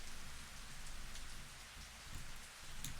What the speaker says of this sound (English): the sound of raindrops striking the windshield had me feeling uneasy